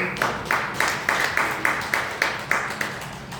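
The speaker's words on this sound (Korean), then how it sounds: "우리 박수로 한번 감사를." Church congregation clapping in thanks after a special hymn performance, a steady run of about a dozen even claps at a moderate tempo, fairly close and alone without talk.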